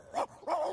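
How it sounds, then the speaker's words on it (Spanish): A cartoon dog barks twice in quick succession, short yappy bow-wows that are clear and close with a brief gap between them, alone with no talk. "Reconocería esos ladridos en cualquier parte."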